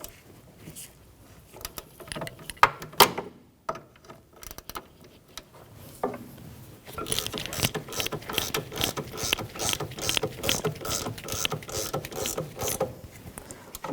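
A ratchet clicks in quick bursts while tightening a rear brake caliper bolt on a Jeep Patriot, with fast, close mechanical clatter that grows steadier and denser in the second half.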